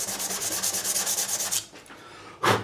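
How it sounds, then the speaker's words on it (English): A guitar fretboard being sanded with 240 grit sandpaper, a steady run of close rhythmic rubbing strokes that stops briefly before one final loud stroke. "So this needs a bit of sanding."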